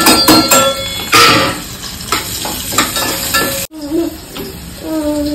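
Onion sizzles in a pan with cluster beans and dried fish while a utensil clatters and scrapes against the metal in bursts, with a brief pause before the frying continues.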